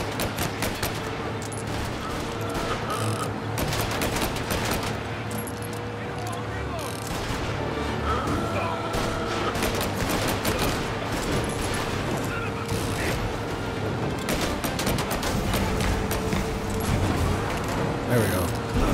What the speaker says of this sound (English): I just keep shooting it.